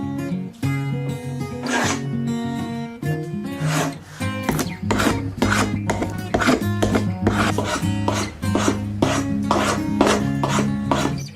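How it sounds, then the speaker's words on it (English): Round-bottom spokeshave shaping a European beech wooden mallet, a steady run of close, loud rasping strokes scraping across the wood with no talking, while a tonal background hum plays underneath. "I'm going to use my round bottom spoke shave to add in the ergonomic details."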